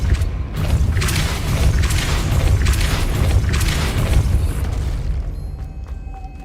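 The Depulso spell in Hogwarts Legacy lets out a loud, sustained rumbling burst of force with crackling, magical texture that fades out into a quieter tail.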